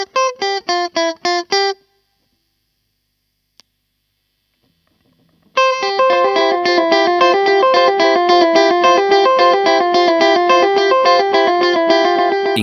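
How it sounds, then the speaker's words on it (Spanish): Electric guitar through a TC Electronic Flashback delay pedal set to its clean, pure 2290 delay mode: a quick run of picked notes, a short silence, then a dense repeating phrase with echoes trailing behind each note. "El primero es el clásico 2290 de TC Electronic, que ofrece un delay muy puro y limpio"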